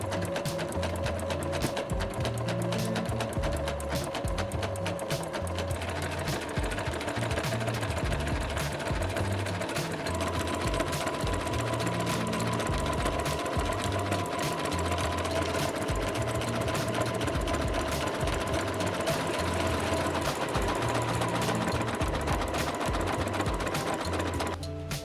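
A sewing machine runs steadily, stitching small fabric scraps into a Valentine's mug rug, its rapid needle chatter and motor hum continuing loud and unbroken with no voices.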